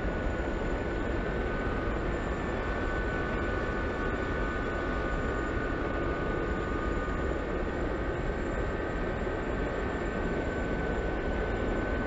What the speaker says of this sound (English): This helicopter feels fast.